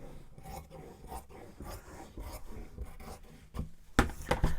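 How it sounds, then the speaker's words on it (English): Scissors snip through fabric for a cuff in a quick series of short rasping cuts, growing louder near the end, with no talking. "so I'm going to use my scissors"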